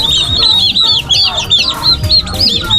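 Mother turkeys, turkey hens, call with repeated high clucking and yelping notes at close range, several birds overlapping in quick, uneven bursts.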